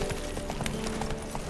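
The horse Roach trotting in The Witcher 3, a rapid, continuous clip-clop of hooves that stays loud and close for the whole moment.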